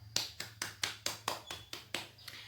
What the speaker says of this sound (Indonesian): Boleh kita kasih aplaus atau tepuk tangannya.